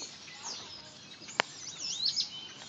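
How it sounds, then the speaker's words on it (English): Faint, high bird chirps and twittering calls flutter over a soft outdoor hiss, with one sharp tick partway through. "Look, there's birds right there"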